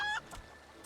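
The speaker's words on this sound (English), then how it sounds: "I tamed a rooster and painted it green" A rooster tamed and painted green in Final Fantasy XIV gives a short cluck-like burst, fairly loud at first then fading against faint background game ambience.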